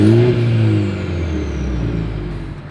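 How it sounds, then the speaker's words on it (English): A 2023 Mercedes-Benz GLC 300 engine revs up and then winds down, its exhaust note falling in pitch and settling into a low rumble. "As always, here is that exhaust clip."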